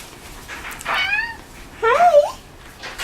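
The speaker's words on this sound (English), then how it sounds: "He's meowing at me." A pet cat meows twice indoors, close and fairly loud, each call a drawn-out rising and falling whine with a pause between.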